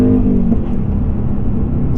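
A 2024 Mustang GT Premium with a six-speed manual blips its engine for a rev-matched downshift to second, a loud, close rumbling engine note that holds steady for about two seconds.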